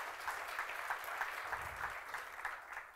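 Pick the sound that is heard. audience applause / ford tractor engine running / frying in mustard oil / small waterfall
audience applause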